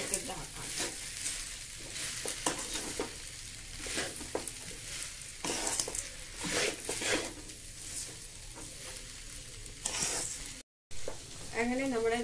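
Okra and peanuts fry in a pan with a continuous soft sizzle, while a spatula stirs them in repeated scraping strokes. The sound is close and moderate, with a brief dropout near the end.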